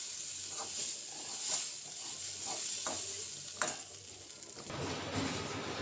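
Chopped onion greens fry in a pan with a soft continuous sizzle and hiss, broken by a few light stirring scrapes and clicks, fairly quiet and with no talking.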